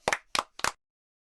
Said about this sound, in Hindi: आप सबके लिए तालियां।